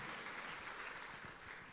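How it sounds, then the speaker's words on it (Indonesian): A church congregation at an Indonesian Independence Day service claps and cheers steadily throughout, a dense, continuous wash of applause with no single voice standing out. "Tepuk tangan sorak-sorai bagi penyertaan Tuhan atas bangsa Indonesia"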